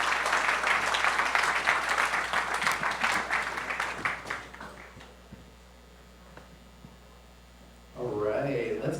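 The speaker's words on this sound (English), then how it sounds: "let's give it one more round of applause for Audrey and Lisa." An audience at a Climate Week NYC live event applauds speakers, with loud dense clapping that fades out after about four seconds into quiet before a voice starts talking.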